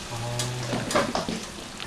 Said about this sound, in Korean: 이렇게 탕수육을 튀기거든요